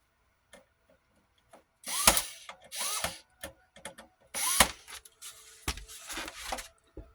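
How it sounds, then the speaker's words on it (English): Screws are removed from a Sony PS4 console in a quiet room, with short whirring bursts from a small driver mixed with scattered clicks and taps. "Let's just pull all these screws off"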